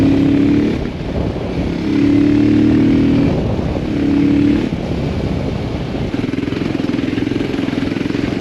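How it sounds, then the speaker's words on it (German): A lowered Voge 300 Rally motorcycle of 29 hp is ridden along, its mid-pitched engine note swelling and dropping in cycles as it accelerates and shifts, with wind rush between. "Ansonsten fährt sich das Moped wie ein Moped."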